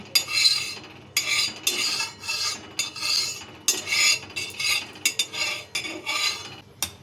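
A spoon spreading a spoonful of mustard oil across a hot tawa on a gas stove, repeated loud metallic scraping strokes in an uneven rhythm, close and clear with no talking.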